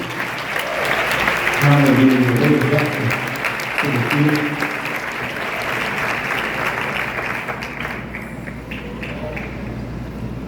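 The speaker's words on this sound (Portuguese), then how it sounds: "Dê uma salva de palmas para Jesus" A congregation at a worship service applauds in a long, full round of clapping, with a voice calling out over it early on before the clapping thins toward the end.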